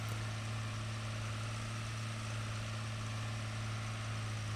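A tractor based on the John Deere 8370R idles in Farming Simulator 15, a steady low engine drone with a constant hum, unchanging and alone throughout.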